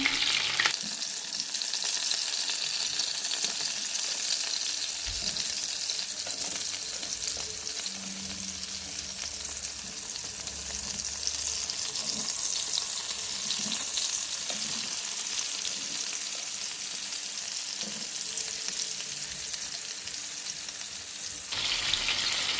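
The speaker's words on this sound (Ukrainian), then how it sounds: "Поджарилися з одної сторони, обертаю їх так акуратно на другу сторону." Zucchini and chicken cutlets bound with egg and breadcrumbs frying in a pan and being turned over: a loud, unbroken hiss of hot oil, with a few soft taps from the pieces being flipped.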